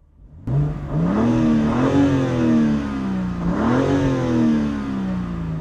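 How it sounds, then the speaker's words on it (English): A 2022 BMW M3 Competition G80 engine revs up twice, its throaty exhaust rising and falling in pitch, loud and close with a steady rumble between revs. "Just listen to the exhaust."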